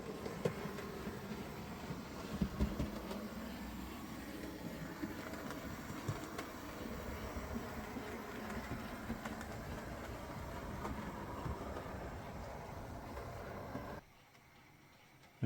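A Hornby LMS Fowler 4P model locomotive fitted with DCC running on model railway track around the back of a fiddle yard, giving a steady faint whirring hum with small clicks, then cutting out near the end.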